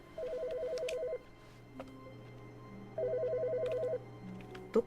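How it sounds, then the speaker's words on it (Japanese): A telephone rings in two electronic trilling bursts separated by a pause, with faint background tones in between. "この電話が鳴ってる？"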